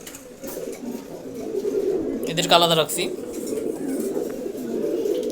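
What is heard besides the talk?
pigeons cooing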